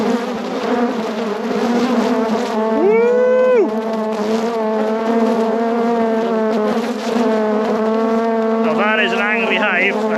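Honey bees buzz loudly and continuously right at an open beehive, a close, dense droning hum with pitch swoops as individual bees fly past, and a voice talking quietly underneath.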